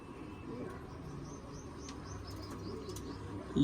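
Pigeons in a rural pigeon loft, with faint chirps and wing flutters over a steady low murmur of background noise.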